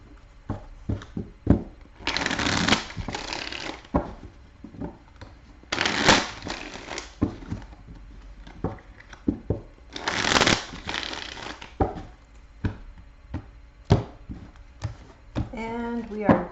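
Tarot deck being shuffled in several quick riffling bursts, each a second or so long, separated by softer handling taps and rustles, close and moderately loud, with a brief spoken voice at the very end.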